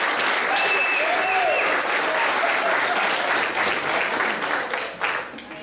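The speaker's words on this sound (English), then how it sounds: "So give yourselves a round of applause" Wedding reception guests break into loud, dense applause that holds steady for several seconds before thinning toward the end, with faint voices mixed into the crowd.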